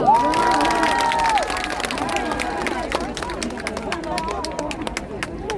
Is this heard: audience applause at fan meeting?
yes